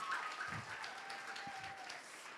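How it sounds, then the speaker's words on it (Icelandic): Audience applause at the Samfés 2026 youth dance competition in Iceland for dancer Elísabet Lea, a faint, distant wash of clapping that holds steady and slowly tapers. "Vá, gefum Elísabetu Leu aftur gott klapp."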